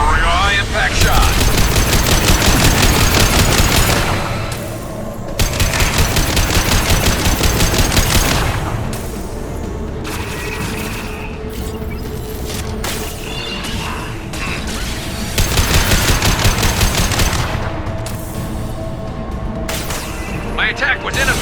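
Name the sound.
gunfire, high impact shot in video game Mass Effect 2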